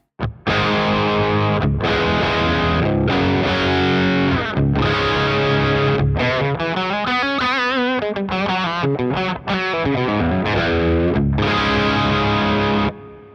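A Stratocaster electric guitar through a VFE Kraken distortion pedal plays loud, heavily distorted sustained chords and a bending lead phrase, with short gaps between the ringing, saturated strums.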